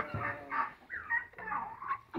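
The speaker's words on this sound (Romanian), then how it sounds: "A venit curca roșie." A red turkey arriving among the chickens in an evening farmyard, giving faint, rough gobbling calls in several bursts at moderate distance, no speech.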